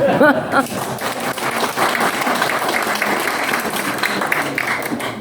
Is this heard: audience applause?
yes